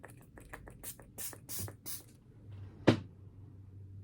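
Facial toner from a spray bottle is misted in a quick series of short, close spritzes, followed by a single sharp click and then quiet.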